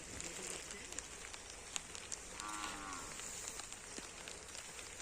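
A buffalo moos once in a rural village setting, a drawn-out low call at moderate distance over a steady hissing background.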